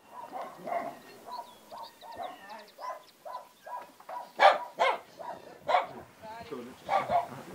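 A dog barks several times in sharp bursts in Izium, Ukraine, in wartime, with people talking throughout.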